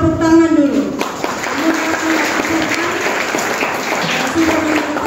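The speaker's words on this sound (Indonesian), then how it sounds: "Mari kita beri tepuk tangan dulu" A church congregation claps in steady, dense applause that fills the room throughout, with a voice speaking over the start.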